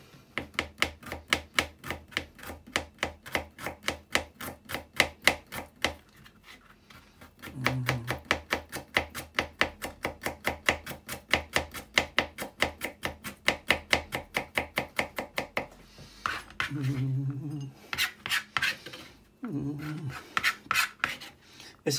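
A knife chops ginger on a board in fast, even strokes, a long steady run of crisp taps with a short pause partway through, and a voice briefly speaks a few times.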